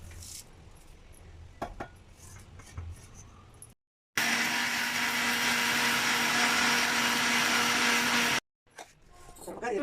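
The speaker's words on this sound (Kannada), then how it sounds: "ಸ್ವಲ್ಪ ಮೆಣಸಿನ್ಕಾಯಿ ಮೆಣಸಿನ್ಕಾಯಿ ಕರಿಬೇವನ್ನು ಇದ್ರ ಜೊತೆಗೆ ಹಾಕಿ ಪೌಡರ್ ಮಾಡಿ" A kitchen mixer grinder whirs loudly and steadily for about four seconds while grinding green chillies and curry leaves into powder, set between quieter stretches of kitchen sounds.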